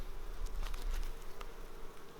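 Honeybees in a hive during an autumn inspection give a steady, close buzzing drone with a few louder swells as individual bees pass near.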